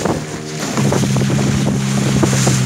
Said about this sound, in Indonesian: Kalau mesin gantar, kalau ini mesin tempel. Mesin tempel itu sampai di angka 15 PK.